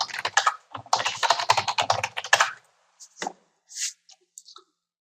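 A username and password are entered on a computer keyboard in quick, close bursts of clicking keystrokes, then a few scattered single key presses after a short pause.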